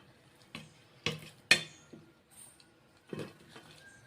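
Metal lid set onto an idli steamer pot while ragi kali cooks, several separate clanks and taps of metal on metal, close and fairly quiet, with short pauses between them.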